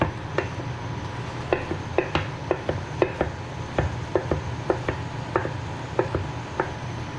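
Sharp, crisp slicing strokes from a mandolin slicer cutting food in a home kitchen, arriving as a fairly steady series of close, distinct clicks over a low background hum.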